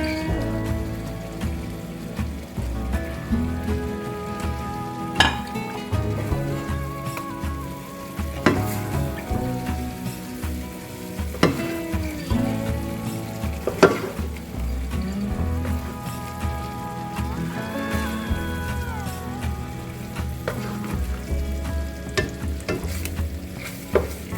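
Salisbury steak hits a hot pan and sizzles loudly and steadily, with scattered crackles and stirring scrapes, over faint background music and no talk.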